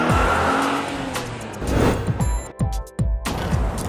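A car races in a video game, engine revving loudly with tires squealing and skidding, followed by several sharp crash impacts as the vehicle gets smashed up.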